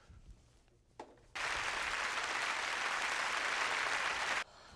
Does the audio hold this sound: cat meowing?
no